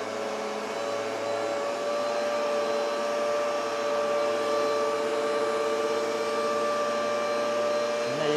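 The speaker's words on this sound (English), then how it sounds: "using the carpet cleaner we got, just to bring the carpets up a little bit better." A carpet cleaner runs steadily over the carpets inside a motorhome, a continuous whining motor drone with a constant pitch and an unchanging level throughout.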